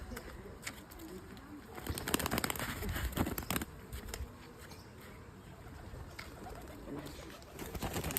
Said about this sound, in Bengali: এই যে কবুতর ছাড়লো আমারটাই